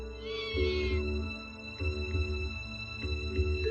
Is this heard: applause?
no